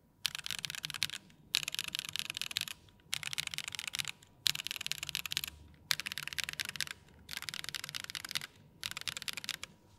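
Typing on an RE65 Alu aluminium mechanical keyboard with no foam inside, rapid close-up clacking in bursts of a second or so separated by brief pauses, with no voices.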